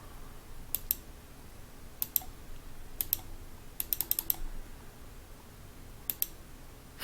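Sharp computer mouse clicks during an online card game, coming in scattered single and double taps with a quick burst of several clicks in the middle, crisp and near against a quiet room.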